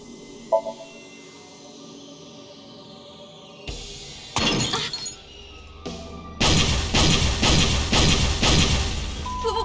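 Sudden loud blasts with shattering, crashing debris erupt after a quiet stretch, followed by a sustained roaring, crackling rumble.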